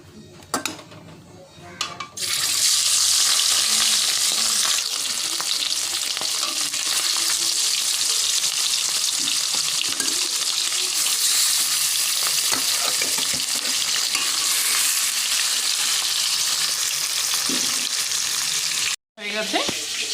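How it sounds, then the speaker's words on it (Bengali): Fish coated in salt and turmeric sizzles loudly and steadily in hot oil in a pan, a dense continuous crackle that cuts out briefly near the end before resuming. "লবণ হলুদ মাখানো হয়ে গেছে, ভেজে নেব।"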